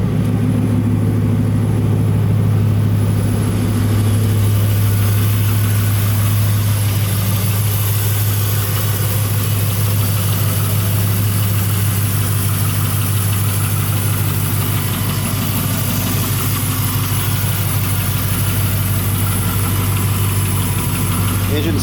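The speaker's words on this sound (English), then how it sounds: "Engine sounds good." A low-mileage 2001 Chevrolet Camaro SS V8 idles steadily and close up with a deep, even rumble and a constant hum, and a person talks over it.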